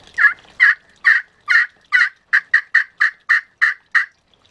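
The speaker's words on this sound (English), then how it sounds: "So you don't have to move your striker very far to get that yelp" A string of eleven sharp turkey yelps from a custom friction call played with a wood striker, evenly spaced and loud, quickening slightly toward the end, with no talking.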